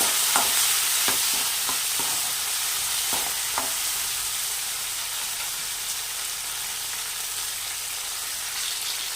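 Steady sizzling of onions and tomatoes sautéing in a pan, with a few soft knocks of a utensil stirring early on.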